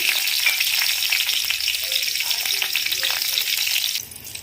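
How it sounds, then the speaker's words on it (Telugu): About four green chillies fry in a pan with a busy, crackling sizzle that runs dense and steady before dropping away near the end. "ఇప్పుడు ఇందులోకి ఒక 4 వరకు పచ్చిమిర్చి వేయించుకుంటున్నాను"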